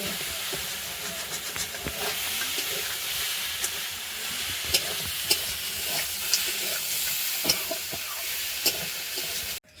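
Taro stolons, crab and potato cooking in a pan in a home kitchen, a constant soft sizzling hiss with occasional faint clicks and stirring knocks, steady throughout and cutting off at the end.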